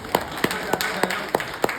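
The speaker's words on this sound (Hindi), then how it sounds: "तालियां।" About six separate, sharp hand claps sound at a slow, roughly even pace, close by and over a quiet room background, like a single person or small group applauding.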